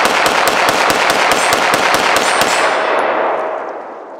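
An Arsenal Strike One handgun fires a rapid string of about a dozen loud, sharp shots with 115 grain rounds at an outdoor range. Each report rings slightly, and the last echo fades out.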